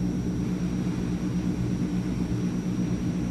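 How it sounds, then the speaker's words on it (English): Engines of a Transall C160, a German-French military transport plane, drone in Microsoft Flight Simulator with a steady, dense low-frequency roar and a faint high whine, continuous and loud with no talk. "this is a German/French plane, and it sounds interesting to me."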